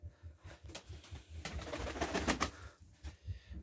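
Pigeons in a coop give soft, low, repeated coos, close and fairly quiet, with a few rustles between calls.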